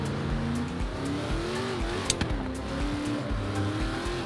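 A Cadillac CTS-V coupe engine in the racing game Forza Horizon 3, a loud, continuous growling drone with rising and falling revs, brief tire squeals and a faint clunk midway.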